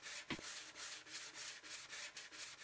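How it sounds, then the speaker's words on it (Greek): A window scraper works soapy water across glass, an even back-and-forth rubbing stroke repeating in a steady rhythm, close and alone with no talk. "Ψέκασε και καθάρισε το τζάμι με σαπουνό νερό και την ξύστρα."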